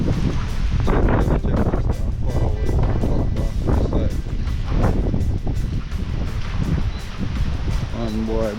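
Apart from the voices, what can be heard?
strong wind during Hurricane Rafael storm in Jamaica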